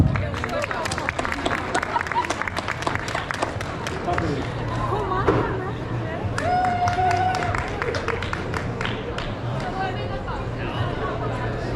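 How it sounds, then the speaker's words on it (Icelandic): An audience applauding a prize winner at a school career event, crisp claps pattering over crowd murmur and scattered talk, with the clapping fading into general hall chatter. "Gefðu þau gott klapp."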